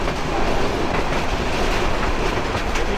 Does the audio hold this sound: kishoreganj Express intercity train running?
yes